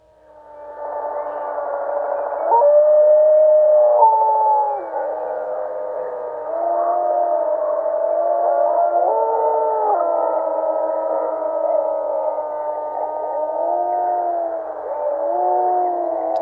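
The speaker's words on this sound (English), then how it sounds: "These are some of the first wild wolf howls in Yellowstone after 70 years of silence." Wild wolves howling in Yellowstone in 1995, played back from magnetic tape: several long, overlapping, sliding howls rising and falling in pitch, loud and sustained, with no other sound.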